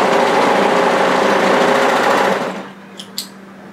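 An overlocker stitching the seam of a knit cardigan runs in a steady, dense whirring drone for about two and a half seconds, then stops, leaving a couple of faint clicks.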